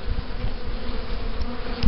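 Honey bees swarm around an opened hive during a spring inspection after winter, their dense, continuous buzz loud and close throughout.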